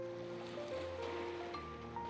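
A cat character swims through water in the game Critter Cove, with a steady wash of waves and sloshing under a layer of soft tonal game music, no voices.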